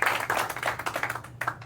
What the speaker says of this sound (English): Let's clap it up for Alex.